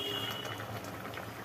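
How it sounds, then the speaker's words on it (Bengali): A curry of potato and eggplant with fish bubbles in a pot, a brief, steady close-up burble of boiling liquid with no voices. "তরকারিতে তো দকবক করে ফুটছে"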